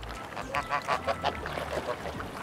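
Several geese honk in a quick run of nasal calls, fairly close, with a low background rumble.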